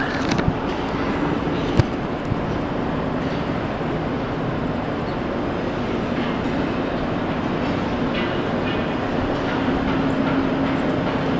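Steady, dense rumble of a KTX high-speed train in Korea, heard from inside as a continuous loud roar with a faint tonal whine and a few brief clicks, no talking.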